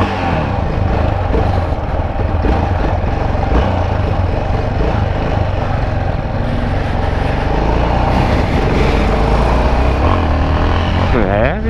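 A small motorcycle (meiota) on a test drive in a game runs up through traffic with a continuous loud engine drone, and a voice talks over it now and then.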